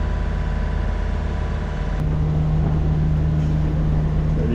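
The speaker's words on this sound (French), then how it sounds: "on a parti le moteur." A sailboat's engine runs in Crinan bay, Scotland, during a light snowfall with wind: a steady low mechanical hum and rumble that deepens and firms up about halfway through, continuous and fairly close, with no voices.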